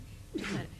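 A single sneeze in a city council meeting, a short bright burst in the middle of a quiet room, with a few faint spoken words around it.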